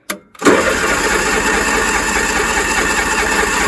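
An old John Deere lawn tractor engine cranks briefly with a short key-start burst, then catches and settles into a steady, loud, close running drone that holds to the end.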